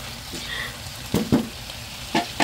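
Pork Bicol express is stirred in a frying pan, with a low sizzle under a few sharp scraping knocks of the utensil against the pan, close and intermittent.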